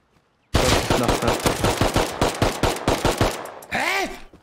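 Rapid automatic gunfire in the survival video game Rust, a loud close burst of about a dozen shots, then a short trailing sound, with no talk over it.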